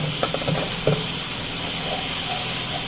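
Tomato puree and spice masala fry in a pan for dhaba-style bhindi, a dense steady sizzle with a few soft stirring clicks early on, close and continuous with no talk.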